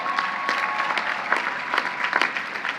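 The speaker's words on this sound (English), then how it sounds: "you can clap to that" Steady applause from an audience, many hands clapping together in a dense, sustained patter with no voices over it.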